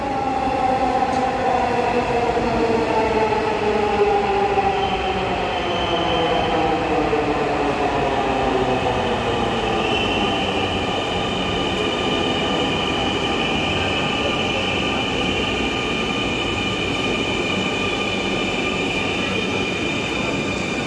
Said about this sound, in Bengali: ট্রেন চলে আসতেছে।